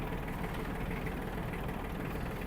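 An Iseki TG-29 Japanese mini tractor drives along with a steady, close engine drone that holds an even level throughout, with no talk over it.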